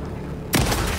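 Gunfire from the video game Alan Wake: a single loud, sharp blast erupts halfway through after near-silence, followed by a sustained rumbling roar.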